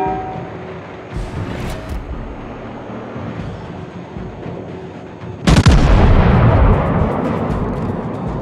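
The battleship Fuso fires its main guns in World of Warships. A huge, booming salvo erupts partway through and rolls on with a long, heavy rumble, after a steady background of engine and ambient drone.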